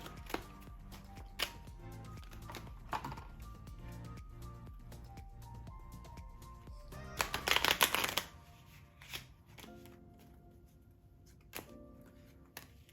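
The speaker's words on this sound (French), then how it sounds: "Allez, tu fais les mélanges que tu veux." Playing cards shuffled for a magic trick, a steady run of soft riffling and snapping with a louder burst of rapid riffle near the middle, close and alone without talk.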